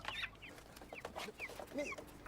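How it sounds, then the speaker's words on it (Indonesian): A chicken clucks in several short, fairly faint bursts close by, in a quiet outdoor setting with no talking. "Ayam siapa sih ini?"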